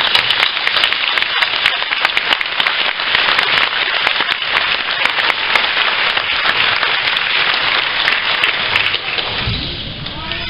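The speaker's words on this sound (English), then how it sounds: "Please join me in a round of applause for our teachers and administrators." An elementary school closing ceremony crowd gives a sustained round of applause for teachers and administrators, loud dense clapping with occasional thumps, fading slightly toward the end.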